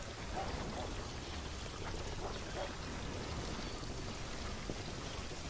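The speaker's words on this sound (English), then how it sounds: "Decent rain sound, actually." Steady, dense rain pours across the whole stretch in the game Call of Juarez Gunslinger, a broad even hiss with scattered drops, close and moderately loud, with no talk over it.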